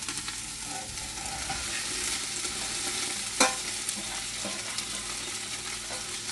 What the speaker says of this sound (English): So I'm just going to chuck all mine in here and give it a good stir up.